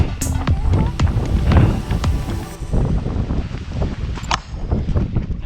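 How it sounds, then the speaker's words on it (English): Strong wind buffets the microphone in gusty, rumbling bursts during a paragliding landing, while excited voices call out over the blustery noise. "it's windy!"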